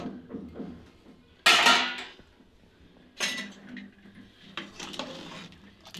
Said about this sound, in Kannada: ಕುಕ್ಕರ್ ಮುಚ್ಚಳ ತೆಗಿತಾ ಇದ್ದೀನಿ.